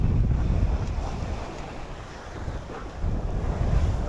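Steady wind gusting across the microphone on a sailboat at sea in the Bali Sea, a dense, rushing roar with low buffeting and faint wash of waves, swelling and easing slightly, no voices.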